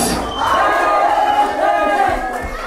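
An audience cheers and shouts at a beatbox tag-team battle, a loud, dense burst of crowd noise that is sustained for a couple of seconds with scattered yells.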